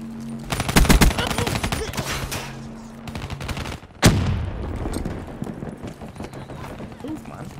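Shotgun blasts in Black Ops 3 Hardpoint on the Nuketown map: a burst of rapid shots early on, then one loud sharp blast with a decaying tail, mixed with other game noise and talk.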